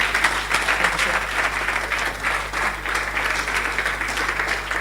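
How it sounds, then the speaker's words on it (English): Warm audience applause at a leadership and business conference, sustained dense clapping from a large crowd, steady and fairly loud for several seconds, with a low hum from the venue's sound system underneath. "A real warm round of applause."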